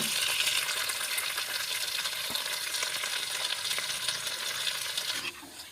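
Steady loud sizzling of liver frying with onions in a clay pot, a dense crackling hiss that continues throughout, dropping slightly at the very end.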